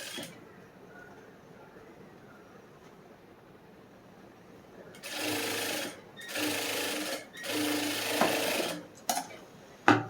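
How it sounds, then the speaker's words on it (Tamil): A sewing machine stitches a blouse lining in three short, close bursts of whirring after about five seconds of quiet room tone, ending with a few small clicks. "திருப்பி ஒரு தையல் போட்டுருங்க"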